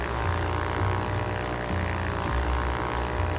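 A propeller airplane engine holds full throttle in the VR flight game Ultrawings, a loud, steady droning hum that never lets up across the short stretch.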